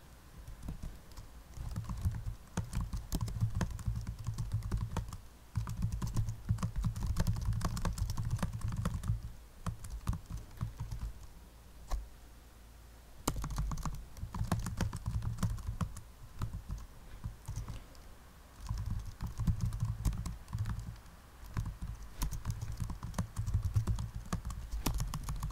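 Keys clack rapidly on a computer keyboard while answers are typed out for a Python programming lesson, bursts of dense tapping broken by short pauses, close and steady with no voice.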